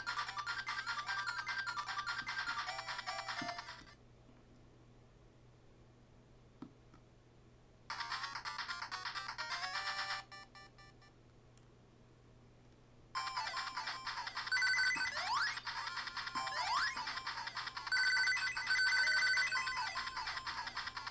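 Sega Master System game audio playing on a Soulja Boy handheld console: bright, buzzy chiptune tones in three bursts separated by short near-silent gaps, with a faint low hum underneath and no talking.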